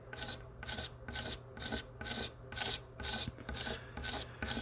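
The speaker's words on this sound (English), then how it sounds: "you feel the little bumps go away as you're scraping" Scraping a filled paint chip level on a sparkle-finish guitar body, a rhythmic series of about nine raspy strokes up close, each a dry gritty rub with brief pauses between.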